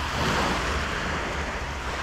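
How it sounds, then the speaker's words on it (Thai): Sea waves wash continuously onto a rocky shore in the morning, a loud steady roar with wind noise buffeting the microphone and no voices. "ทะเลตอนเช้าๆนี่มันดีนะ"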